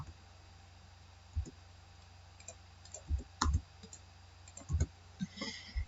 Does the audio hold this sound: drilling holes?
no